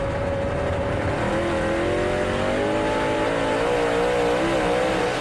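Late model dirt race car engine at Lernerville Speedway roaring loudly and steadily as it accelerates, its pitch climbing and wavering throughout, with no talk over it.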